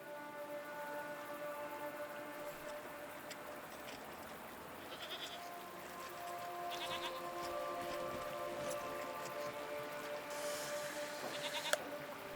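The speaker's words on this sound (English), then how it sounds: "What are these strange goat-like creatures? Are they simply goats?" Strange goat-like creatures bleat in a video game, their sheep-like calls repeating at moderate volume over a steady ambient background with occasional soft chimes.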